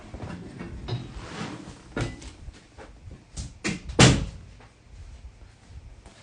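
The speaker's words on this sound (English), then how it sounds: "Hold on, let me close my door." A room door pulled shut with a single firm thud near the middle, preceded by a few softer knocks and handling sounds, close and fairly loud, with no talking.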